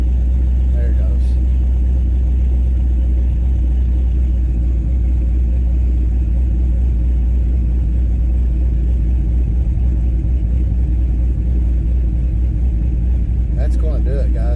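An LS V8 engine idles steadily after an idle air control reset, a constant low rumble settling in, close and loud, with someone talking over it.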